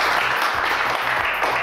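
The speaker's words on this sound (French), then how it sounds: "maintenant, fidèles téléspectateurs du JJDA, je vous demande d'applaudir à tout rompre Joséphine." Studio audience applauding at a French television talk show, a dense, steady wash of clapping that stays loud and continuous throughout.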